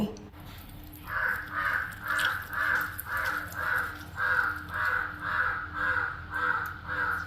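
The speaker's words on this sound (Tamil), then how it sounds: "காகம் கரைஞ்சு கொண்டே இருக்குது." A crow caws over and over in Jaffna, about a dozen harsh calls in an even, steady rhythm, fairly close over quiet background noise.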